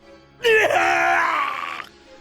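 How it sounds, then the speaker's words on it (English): Saturn from One Piece lets out a chilling, pained scream: a single loud, sustained wailing cry lasting over a second, rising sharply and then fading. "Inside one of the naval battleships, a chilling scream could be heard."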